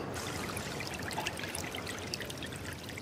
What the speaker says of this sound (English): The water's flowing now.